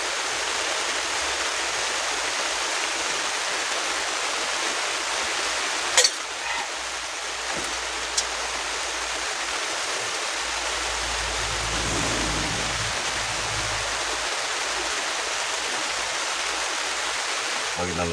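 Steady, dense hiss of heavy rain pouring down continuously on a forest campsite, heard from inside a pickup truck, with a couple of faint knocks and a low rumble partway through.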